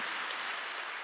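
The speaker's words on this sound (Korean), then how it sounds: "우리 박수로 축복하고 환영하겠습니다." A church congregation at a Sunday morning service in Ansan claps in welcome, a dense, steady wash of many hands filling the room evenly for a brief moment with no voices.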